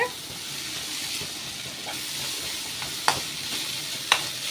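Cooked rice is stirred in a pan with drumstick leaves sautéed in oil, giving a continuous soft sizzle with a few sharp scrapes of the spoon against the pan.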